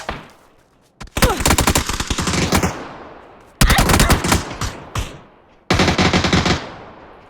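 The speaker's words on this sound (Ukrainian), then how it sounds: "Перестрілка триває." Automatic gunfire rattles in long, loud bursts during a PUBG clan-battle shootout. Three sustained volleys are separated by brief pauses.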